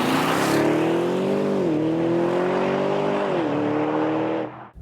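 A 2020 Audi RS Q8 launching hard under launch control, its exhaust roaring loudly and close with a rising engine note that dips at two quick upshifts before cutting off abruptly.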